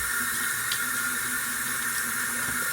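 Steady running water from a faucet while makeup brushes are rinsed and washed, a continuous close hiss filling the whole stretch with no talk.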